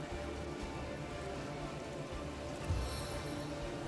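Steady rain-like hiss from a rain spell in the fantasy role-playing game Divinity: Original Sin, a constant broadband wash throughout with a brief thump near the end, fairly quiet and without speech.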